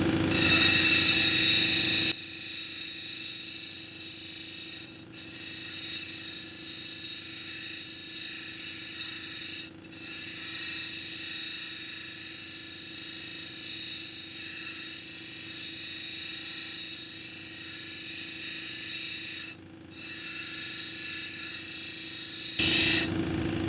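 Lapidary grinding wheels shape a red jasper cabochon with a steady high whine and grinding hiss, nearly constant throughout, briefly dipping a few times as the stone is lifted and moved across the wheels; no talk.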